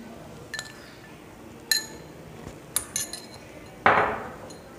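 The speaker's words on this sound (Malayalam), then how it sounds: "ഇത് നല്ലവണ്ണം മിക്സ് ചെയ്തെടുക്കുക." A spoon clinks against a bowl while chilli chicken ingredients with soy sauce and Kashmiri chilli powder are mixed, giving a few sharp, separate metallic taps spread out over a quiet background.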